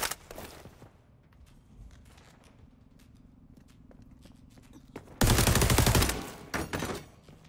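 Gunfire from the video game XDefiant: scattered shots and clicks, then a loud sustained burst of automatic fire followed by a few trailing shots, close and dominant.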